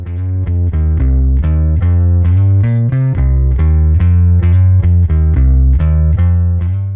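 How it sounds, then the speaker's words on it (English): Heavily distorted tone passed through a distortion effect, with a low shelf EQ cut before the distortion and a matching low boost after it, producing a loud, continuous buzzing riff of rhythmic repeated notes with thick bass. "turning up macro 1 will simultaneously pull down a low shelf cut pre-distortion and boost the same frequencies post-distortion"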